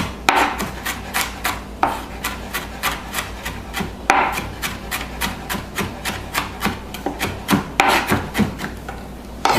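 Sharp knife chopping on a board while preparing a beef bowl, quick steady strokes in bursts of about eight, each a crisp close knock, with brief pauses between runs and no talking.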